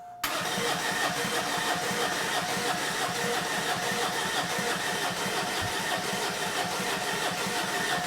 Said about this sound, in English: Listen to it crank over here.